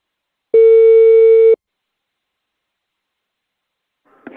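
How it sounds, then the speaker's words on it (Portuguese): A single steady telephone ringing tone lasting about one second, loud and clean against silence, followed by a faint rustle at the end. "Eu vou ligar agora pra Dona Prudência"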